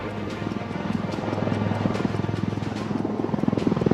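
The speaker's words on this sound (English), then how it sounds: "With the grace and all the panache, you're now seeing the aircraft touching down." Sukhoi Su-30MKI fighter jet touching down during an aerobatic display at Aero India 2023, a steady loud engine roar with rumbling airflow, heard amid outdoor airshow ambience.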